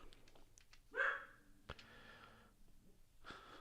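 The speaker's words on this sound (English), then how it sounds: "what you barking at, buddy?" A dog barks once, loud and close, with a short breathy snort or huff following about half a second later amid quiet room noise.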